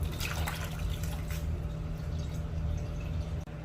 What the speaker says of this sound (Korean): 바로 채반에다가 얘네들을 건져 놓겠습니다. 건져서 10분, 10분간만 물기를 좀 빼줄게요.